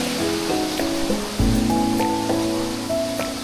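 Strong river current rushes at Colibong Rocky Falls in Santa Fe, Nueva Vizcaya, a steady close wash of water running under a layer of background music.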